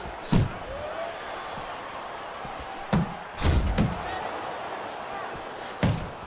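Punches land in the Fight Night Champion boxing game during a Mike Tyson versus George Foreman bout. Five heavy, dull thuds come at irregular intervals, two of them close together, over a steady crowd-like background.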